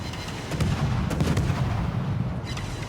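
Naval gunfire in the World of Warships game during a Kitakaze destroyer match: continuous booming cannon salvos, deep and rumbling, overlapping into a dense barrage at moderate loudness with no voices.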